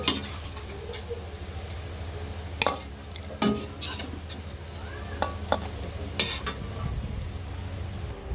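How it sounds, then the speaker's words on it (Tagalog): Pork liver sautéing for pancit canton in a hot pan, a steady sizzle with scattered sharp clinks and scrapes of a utensil stirring against the metal. "Igisa lang natin siya dyan."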